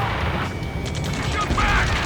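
Sustained gunfire crackles in Ace Combat 7 during a ground firefight, dense rapid shots and mechanical clatter filling the whole moment at close, loud range, mixed with radio-style voices.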